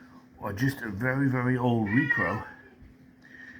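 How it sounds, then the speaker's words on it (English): A house cat yowls and meows loudly in the background of an indoor room, a long drawn-out wailing call lasting a couple of seconds while someone talks over it. "that's my cat screaming in the background"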